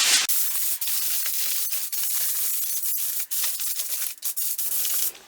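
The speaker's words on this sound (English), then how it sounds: "I'm going to put the aluminum foil." Aluminum foil is spread and pressed over a dish of baked pork chops, giving close, continuous crinkling and rustling with brief pauses as it is folded around the edges.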